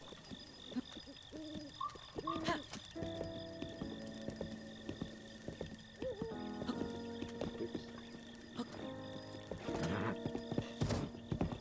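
Horse hooves clip-clopping in the video game Zelda Breath of the Wild, irregular clopping steps mixed with whinnies and hooting game sounds, at moderate level with no talking.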